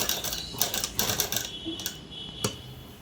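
Sewing machine stitching a V-shaped cut-work design on a blouse, heard in short bursts of rapid clatter separated by pauses, close and moderately loud.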